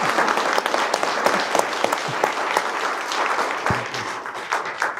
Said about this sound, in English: could we give a round of applause for the moderator?